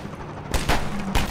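Gunfire aimed at the player in the Half-Life 2 video game, with a couple of sharp bursts of shots cutting through a dense, noisy game soundscape.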